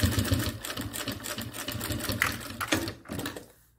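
A sewing machine stitching bias binding onto a pen case panel runs in a rapid, close mechanical patter, slowing to a few separate thumps before stopping.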